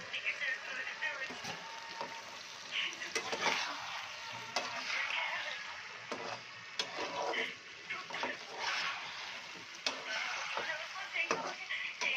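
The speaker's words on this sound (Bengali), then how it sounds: "এখন আমি সমস্ত জিনিসগুলো দিয়ে এখন ভালো করে একটু কষিয়ে নেবো" Egg curry ingredients sautéed and stirred in a pan, with steady frying sizzle and scraping stir strokes throughout, a voice talking over the cooking.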